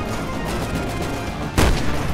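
In the video game Resident Evil 6, a trainyard battle carries low background clatter until a single loud, sharp rocket-launcher blast bursts in near the end and rings on briefly.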